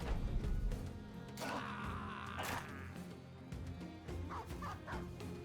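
Dogs bark and yip amid a clash of combat noise in the Battle Brothers video game, short bursts over busy game sounds and music.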